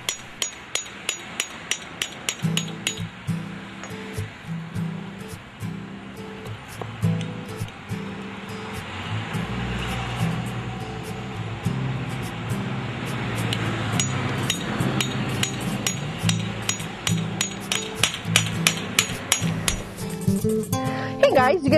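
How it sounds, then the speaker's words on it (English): Steel chisel struck with a hammer to score a brick all the way around, giving a long run of sharp metallic taps at a steady rhythm, loud and close, with voices talking at times. "an easy way to do the cuts would be to use a chisel and a hammer. Score your brick all the way around"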